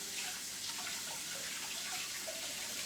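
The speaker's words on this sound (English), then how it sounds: "After I wash my hands." Tap water runs steadily into a kitchen sink as hands are washed, a continuous close hiss and splash with no talk.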